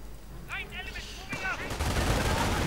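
Video game battle with MG42 machine guns and rifle fire crackling in rapid bursts, mid-distance and steady, under a voice speaking over the action.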